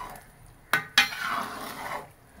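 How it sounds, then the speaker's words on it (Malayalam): Herbs simmering in coconut oil in a pot for homemade hair oil, with two quick metallic scrapes of the stirring spoon against the pot over a soft sizzle. "അപ്പോൾ നമ്മൾ ഇടയ്ക്ക് അന്നിങ്ങനെ ഇളക്കി കൊടുക്കാം."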